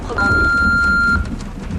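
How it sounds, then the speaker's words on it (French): An answering machine's single steady electronic beep sounds for about a second, clear and close, followed by faint background noise. "laissez un message après le bip"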